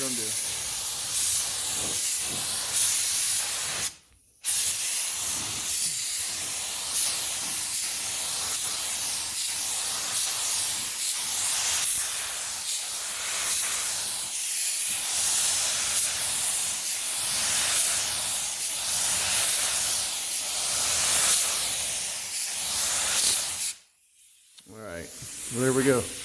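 A spray gun lays aqua mist paint onto a 1970 Buick GS Skylark in a long, steady, loud hiss, with two short pauses where the trigger is released.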